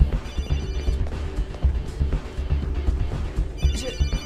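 A mobile phone rings amid a busy, crowded scene in an action film, its ringtone tones faint and partly buried under rumbling background noise and movement.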